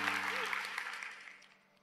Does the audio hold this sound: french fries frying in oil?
no